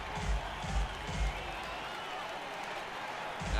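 Video game baseball stadium crowd of about 35,000 cheering in a steady roar, with a few rhythmic low thumps pulsing through the noise.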